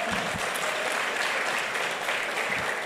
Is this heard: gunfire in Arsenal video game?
no